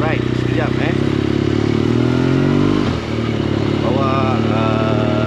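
A BMW GS 1200 LC motorcycle fitted with Rapid Bike Racing, Shift Assist and a slip-on exhaust drones steadily while riding, its engine note shifting in pitch with a brief dip near the three-second mark, under wind noise and a short spoken word.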